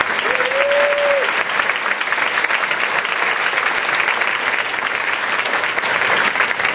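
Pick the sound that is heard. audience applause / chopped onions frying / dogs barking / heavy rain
audience applause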